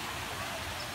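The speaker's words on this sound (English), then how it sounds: "I like the waterfall." A waterfall at Oakland Zoo gives a faint, steady, hissing rush of falling water that runs unbroken through the brief moment, with no voices over it.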